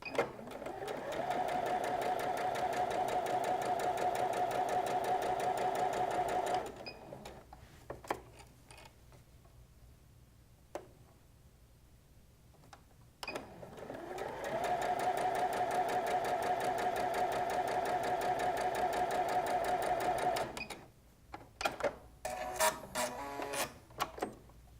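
Sewing machine fitted with a quarter-inch foot stitching half square triangles in two long steady whirring runs, separated by a quiet pause with small clicks and handling noises.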